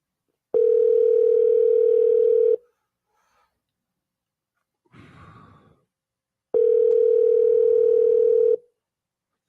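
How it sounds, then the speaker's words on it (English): A telephone rings on the caller's end with two long, steady tones separated by a silent gap, a brief soft rustle between them, close and clear with no talking. "He lets the phone ring 100 times."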